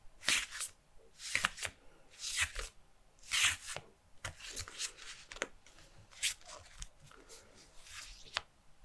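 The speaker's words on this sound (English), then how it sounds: "So let's start shuffling." Tarot cards are shuffled close up in an intimate whispery setting, giving irregular crisp riffles and soft slides that rise and fall over several seconds, with no talk.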